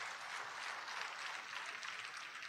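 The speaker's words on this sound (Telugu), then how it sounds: "అర్థమైతే చప్పట్లు కొట్టకుండా ఉండలేరే." An audience at a church gospel meeting claps hands, a faint, distant, continuous patter of many hands with no distinct rhythm.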